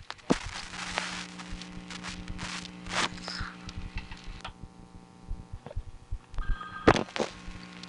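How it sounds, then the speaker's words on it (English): Telephone ringing heard down a New York phone test line, with intermittent tonal bursts, clicks and faint line noise rather than a steady ring, fairly quiet throughout. "I could hear the ringing better that way."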